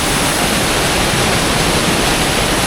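A mountain stream above Tancak waterfall in Panti, Jember, rushes loudly and continuously, a dense broadband roar of flowing water that fills the whole moment with no other sounds.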